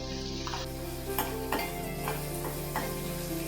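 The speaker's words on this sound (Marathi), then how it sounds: "मिरच्या आता छान फ्राय झाल्या" Dry red chillies fry in hot oil for a dal tadka, giving a close, steady sizzle broken by a few spatula scrapes and small crackles.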